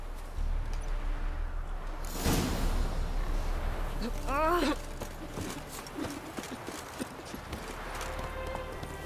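Horse hooves clip-clop at a gallop in The Witcher 3 game, a steady rhythmic pounding close by, with a brief whinny partway through and game sounds around it.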